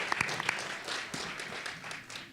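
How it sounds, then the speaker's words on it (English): Audience applause for panelists at an Illinois health care forum, a fairly quiet scatter of clapping from a modest crowd that starts with a few sharp claps and then thins out. "give all of our panelists a round of applause"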